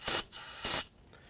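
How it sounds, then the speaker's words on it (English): Two short, loud aerosol spray bursts hit a Cadillac Escalade front brake to wash off residual brake fluid, each about a fifth of a second long with a brief pause between. "I'm going to spray that down, get any of the residual brake fluid off of this"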